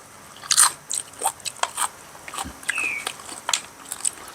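Crispy grilled pork ear is bitten and chewed close to the mic, giving a run of sharp, crackly crunches in an uneven rhythm, loud and alone without talk.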